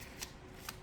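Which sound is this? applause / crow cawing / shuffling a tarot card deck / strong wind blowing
shuffling a tarot card deck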